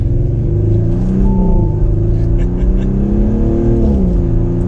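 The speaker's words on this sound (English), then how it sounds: "let's tone it back up to the dynamic mode now and keep it in automatic and feel out the acceleration again" A 2021 Audi SQ5 Premium Plus in dynamic mode accelerates hard, its engine rumbling loud and steady with rising and falling pitch as it shifts, heard close from inside without talk.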